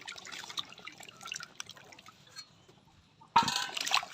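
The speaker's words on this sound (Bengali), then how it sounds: "এখন হচ্ছে পেঁপে ধোবো।" Papaya being washed under running tap water in a home kitchen, faint trickling and dripping for a few seconds, then a louder splashing rush near the end.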